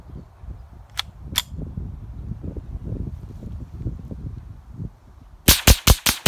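Ruger 10/22 semi-automatic rimfire rifle fired outdoors: two sharp cracks a moment apart, then a quick string of four shots near the end, over soft wind noise.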